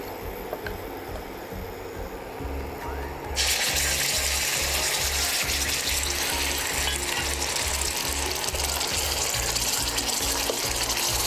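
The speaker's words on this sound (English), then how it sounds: "I'll fry this paste for 8 to 10 minutes until all the raw smell is gone" Onion paste with spices frying in oil for chicken kali mirch, a loud steady close sizzle that swells abruptly partway through and then holds as a dense continuous hiss, with a rhythmic low mechanical pulsing underneath and no voices.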